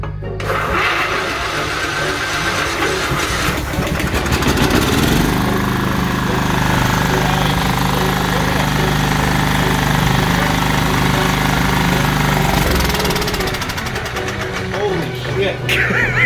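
A Kohler engine on a custom racing lawnmower runs in a garage, a loud, rough, continuous mechanical roar close by that holds steady for most of the stretch, with people talking over it.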